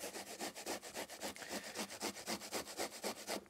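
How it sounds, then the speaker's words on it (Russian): Raw onion rubbed against a fine grater, rhythmic close-up wet rasping strokes repeating several times a second without a break. "я натираю сырой лук на вот такой терке мелкой"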